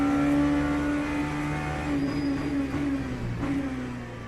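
An LMP3 race car in the Le Mans Ultimate racing game drones past at speed, its engine tone holding steady and then sliding lower as it moves away, fairly quiet and with no talk.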